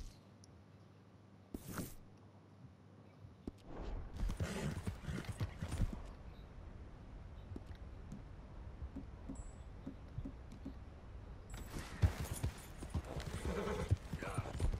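Horse hooves clip-clopping in Red Dead Redemption 2, a rhythmic trot that starts a few seconds in and keeps going under game ambience, with a brief whinny early on and louder gusts of noise near the end.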